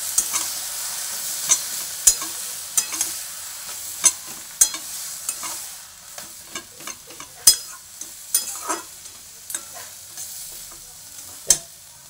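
Vegetable curry being stirred in a frying pan for kalai shaker chachchari, with repeated sharp scrapes and clacks of the spatula over a steady sizzle, close and fairly loud, no voices.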